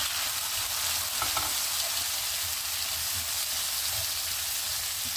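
Tomato and finely chopped pineapple stir-frying in a hot pan, a continuous bright sizzle with occasional scraping and stirring clicks, close and alone.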